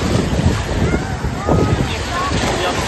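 Wind gusts outdoors in a steady, rushing buffet that rumbles against the microphone, swelling and easing over a few seconds, with talk underneath.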